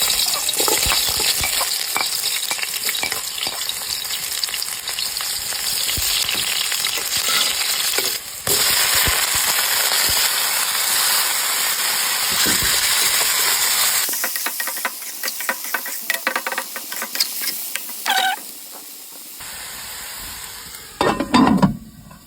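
Food frying in oil, a loud close sizzle and hiss that runs steadily, then turns choppier with crackles and stirring knocks in the second half, no voices over it.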